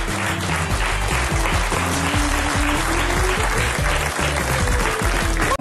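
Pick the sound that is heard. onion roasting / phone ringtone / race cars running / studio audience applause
studio audience applause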